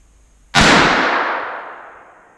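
A single loud, sharp shot rings out from a Savage Arms Model 2 rifle chambered in .243 during target shooting, with a long echoing tail fading over about two seconds.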